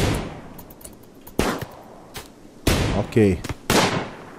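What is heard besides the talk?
gunfire in the video game RimWorld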